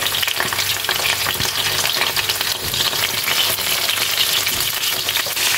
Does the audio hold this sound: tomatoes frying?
yes